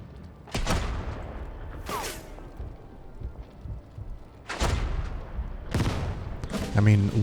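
Artillery fire in the WWII strategy game Total Tank General, four loud separate booming blasts spaced a second or more apart, with low rumbling in between and a voice talking over part of it.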